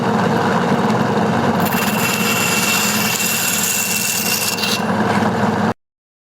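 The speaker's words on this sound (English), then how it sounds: "we're going to use our thickness sander and slide this through" A thickness sander grinds a thin wooden part for a 1960s Gibson J-45 acoustic guitar repair, a steady loud rasping roar with a brighter hiss as the wood feeds through, stopping abruptly near the end.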